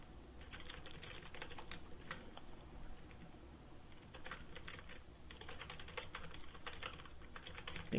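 Code being typed on a computer keyboard, a quiet, close clatter of key presses in quick bursts with short pauses between runs and no talking.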